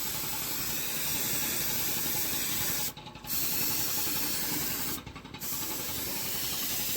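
Steady, loud abrasive rubbing of a surface being prepared for paint, likely shields being rubbed down, continuing almost without pause for seven seconds with two brief dips in intensity.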